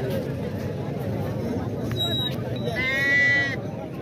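Tall, long-eared Makhi Cheeni goats, a heavy high-yield breed with two kids, give a couple of short, wavering bleats near the end over steady crowd chatter and close speech.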